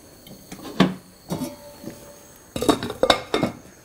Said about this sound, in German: dann macht ihr das so, einen Deckel drauf